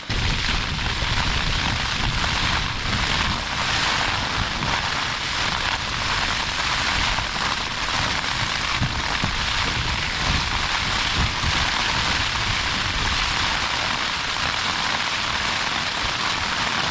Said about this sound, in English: Rain's here.